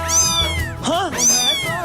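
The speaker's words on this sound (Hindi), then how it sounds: "मुझे पता चला कि वो स्कूल में बिल्ली लाई है।" A cat meows twice in a school setting, loud and close, with two drawn-out, wavering cries in quick succession and no talk.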